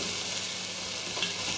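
Vegetables sizzle with Iberian pork presa juices in a cocotte, a continuous dense frying hiss at moderate level with no talking.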